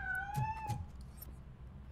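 A cat in the video game RoboCop: Rogue City gives two short meows close together, clear and close, followed by quiet ambient room tone.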